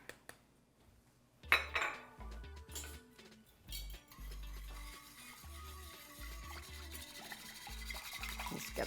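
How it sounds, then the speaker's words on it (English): A whisk stirs sugar, lemon juice and cornstarch in a bowl, giving quiet irregular clinks and scrapes against the bowl, faint and close, with low thumps in between. "I'll start by whisking my sugar and lemon juice"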